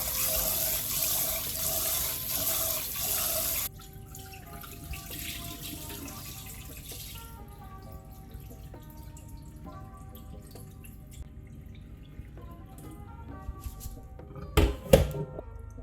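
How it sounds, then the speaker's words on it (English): Sticky rice is washed under a running tap, starting with a steady rush of water that then quiets to soft trickling and sloshing in a bowl, with a brief clatter near the end and no voices. "So let's wash the rice"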